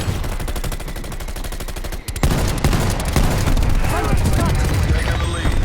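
Rapid video-game gunfire from a hand cannon in a fast shooter match, dense repeated shots that break off briefly then resume louder with crackling effects and game voice callouts mixed in.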